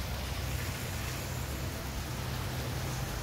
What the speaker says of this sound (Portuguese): Estão vendo a chuva?